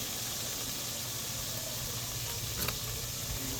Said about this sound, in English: So we're frying up this chicken here.